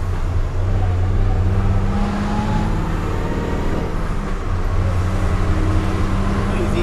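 Automatic truck engine running steadily with low rumbling drone, a shift in pitch midway as the transmission changes gear, continuous and close.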